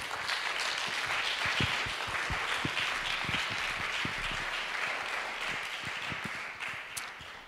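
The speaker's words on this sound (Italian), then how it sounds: "Veramente un applausone a cui aggiungo il mio" Concert audience applause at an arts prize winners' concert, dense sustained clapping from a large crowd through the whole stretch, with scattered louder individual claps standing out near the front.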